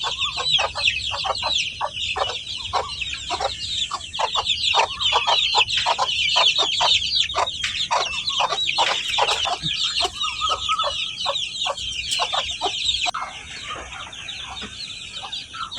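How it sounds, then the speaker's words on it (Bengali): Two native desi hens cluck on a fenced rooftop garden while their 22 chicks peep in a busy, high chatter. The sound is close and continuous and eases off slightly toward the end. "তো মাশাআল্লাহ এটা আমাদের দেশি জাতীয় মুরগি।"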